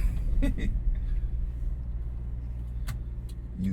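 Japanese Kei truck engine and road noise heard from inside the cab, a steady low rumble throughout with a few brief clicks and rattles near and at moderate loudness.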